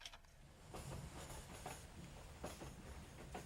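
Train rolling on rails as a sound effect, a continuous low rumble with soft irregular clacks and rattles from the wheels, quiet and steady throughout.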